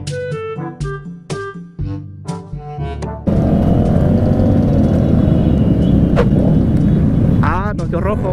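Motorcycle engine droning steadily at close range during a street ride at a protest march in Chile, rising in a sustained roar after a burst of music, with traffic rumble behind.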